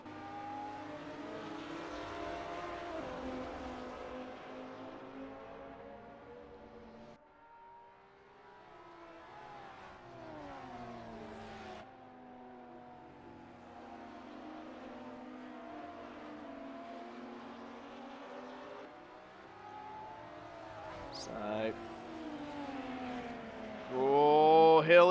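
Race car engines in the ATCC Oschersleben sim racing game drone steadily through the chicane, rising and falling in pitch as they rev and shift, with a louder burst of revving at the end.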